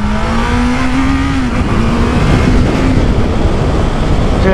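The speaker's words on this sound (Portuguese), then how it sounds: "E um detalhe aqui da moto que ela demora pra encher o motor um pouco, né?" A new motorcycle's engine revs hard and holds a loud, steady drone with a rising then settling pitch, close by and continuous for several seconds with no talking.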